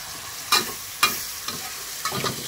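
Shrimp stir-fries with holy basil in a pan. Four separate scraping strokes of the spatula cut through a steady sizzle, spaced about half a second apart.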